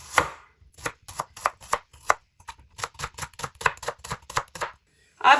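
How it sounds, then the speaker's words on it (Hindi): A knife chops an onion on a cutting board in quick, uneven bursts of crisp knocks, close and loud with short pauses between strokes and no talking. "प्याज को आपने इस तरह काट लेना है।"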